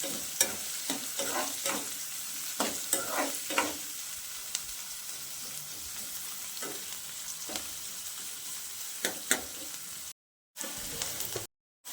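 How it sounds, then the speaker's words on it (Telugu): Green chillies and onions fry in a pan with a steady, close sizzle, broken by scraping stirs throughout, before the sound drops out briefly near the end. "కొంచెం పచ్చిమిర్చి ఉల్లిపాయలు మంచిగా వేగే వరకు వేయించుకోవాలి."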